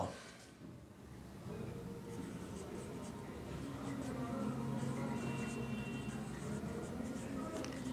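Writing on a board during an accounting class, a continuous scratchy scribbling stroke sound over a constant room hum, fairly quiet and steady throughout.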